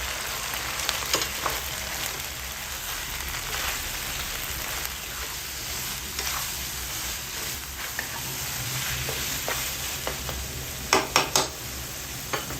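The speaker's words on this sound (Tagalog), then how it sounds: "ngayon lagyan natin yung ating giniling." Ground meat fries in a pan over tomato paste, a steady close crackling sizzle with scraping, clinking stirring strokes throughout and a few sharper knocks of the utensil near the end.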